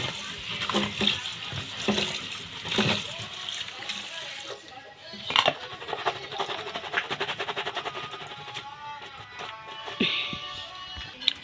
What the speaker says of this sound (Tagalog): Hugasan sa nato ang pitsay